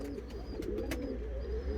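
Arab breed pigeons cooing in a steady low murmur from a loft or coop, several birds overlapping at close range with faint chirps above.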